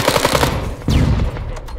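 Rapid automatic gunfire in Arma 3 during close-quarters breach-and-clear practice, a loud, dense burst of shots followed by a reverberant crack and decaying echoes.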